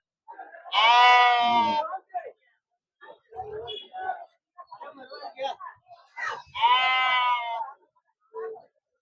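Goats let out two loud, wavering bleats several seconds apart, with people talking in between amid a busy goat and sheep market.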